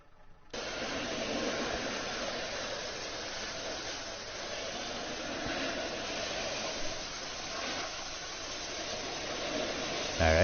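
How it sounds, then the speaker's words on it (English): A pressure washer sprays in Tank Mechanic Simulator, a steady broadband hiss that starts abruptly and holds at an even, moderate level for about ten seconds with no talking. "Right, where's my pressure washer?"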